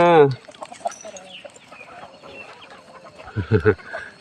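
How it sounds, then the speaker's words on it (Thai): Chickens cluck and peck nearby while eating rice at a temple in Lampang, Thailand, with a short squawk at the start and a cluster of louder clucks near the end over soft background noise. "น้องไก่กินข้าว"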